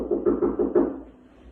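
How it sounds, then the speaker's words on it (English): Knuckles rap on wood five times in a quick, even burst, close and clear, then the sound falls to silence. "Had to knock on wood right there."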